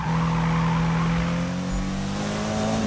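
Car drifting through corners in a racing video game, a steady loud engine drone with a tire squeal holding through the bends, with no talking over it.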